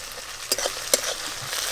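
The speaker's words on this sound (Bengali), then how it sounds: "আদা রসুন পেঁয়াজ ভালো করে ভাজা ভাজা হয়ে গেছে" Ginger, garlic and onion fry in a pan with a steady, close hiss, broken by a couple of sharp spatula clicks as the mix is stirred.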